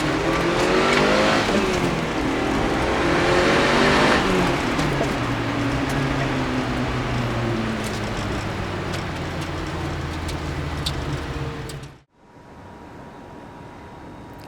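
Mitsubishi Lancer Evolution VI Tommi Makinen Edition accelerating hard through the gears with rising engine revs and a turbo whoosh, loud and close, cutting off abruptly before faint background noise.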